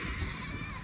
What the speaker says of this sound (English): Baby goats